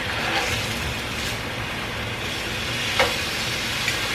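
Plant-based burger patties frying in a pan, a steady broadband sizzle that holds close and even throughout, with a couple of brief clicks near the end.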